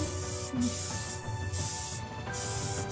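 An airbrush spraying paint onto a monochrome canal boat painting, a steady close hiss that pulses on and off in short bursts.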